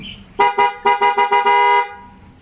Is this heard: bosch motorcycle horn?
yes